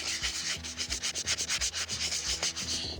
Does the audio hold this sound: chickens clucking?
no